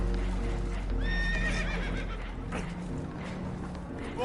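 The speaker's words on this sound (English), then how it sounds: "Horses are spooked" Spooked horses whinny and neigh repeatedly in rising, shrill calls over steady background noise and rumble aboard a boat, with hooves clattering close by.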